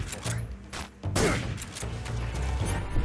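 Gunfire in Metal Gear Solid 3 during a boss fight with Young Ocelot, a few sharp shot bursts over a low game soundscape, the loudest crack near the middle, no voices.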